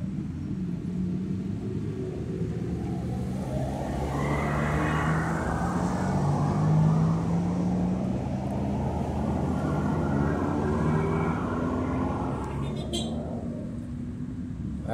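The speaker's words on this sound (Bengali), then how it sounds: "এখনও গাড়িগুলো অপেক্ষা ছিল, এই মাত্র গ্রিন সিগন্যাল পেয়েছে।" Cars pull away together from a green traffic signal on a sunny street in Tashkent, a low engine rumble swelling and rolling on steadily close by, with faint voices beneath it.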